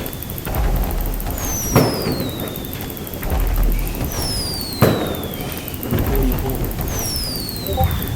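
New Year fireworks launched in pairs, more than twenty shells near a dormitory area, each rising with a descending whistle followed by a sharp bang, repeating at a steady pace amid background crowd noise.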